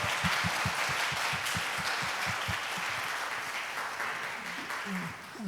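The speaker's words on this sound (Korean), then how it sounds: "박수를 한번 좀 쳐보세요" Audience applause at a world wisdom forum, a dense wash of many hands clapping steadily, moderately loud and filling the room, fading slightly toward the end as voices begin to emerge.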